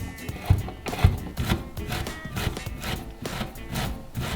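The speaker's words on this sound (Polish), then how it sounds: "W pierwszej kolejności ścieramy na tarce ser mozzarella." Rhythmic rasping strokes of mozzarella cheese being grated on a grater, repeated back-and-forth scrapes with a few heavier thumps, close by and without talk.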